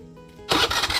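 A motorcycle engine catches after a quiet idle lead-in, and a loud throaty running rumble with uneven pulsing follows, close to the listener, on a rainy outing.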